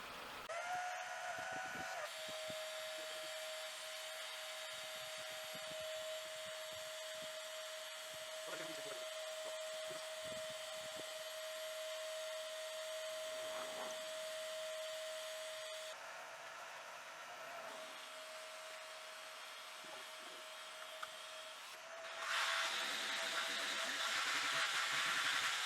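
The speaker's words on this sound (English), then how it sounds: "it's time to give the car a bit of a hoover out" A vacuum cleaner hoovers out the interior of a Renault Mégane Classic, its continuous whining hum running the whole time and shifting in pitch and loudness as the nozzle moves.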